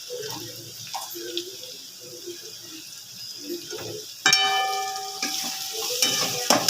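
Spices being stirred in a hot pan for Maharashtrian batata bhaji, soft scraping and a low sizzle at first, then a louder, steady frying hiss with ringing tones from about four seconds on.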